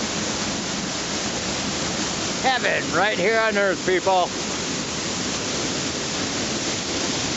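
A waterfall tumbles near a rocky, cave-like spot, a constant broad rushing roar that stays steady throughout while a person speaks briefly over it midway.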